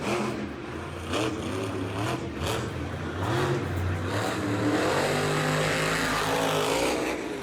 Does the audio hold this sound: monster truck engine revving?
yes